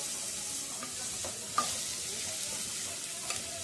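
Chopped onion sizzling in a thin drizzle of hot olive oil while homemade beans are being prepared, a steady soft crackling hiss with occasional small pops and stirring sounds.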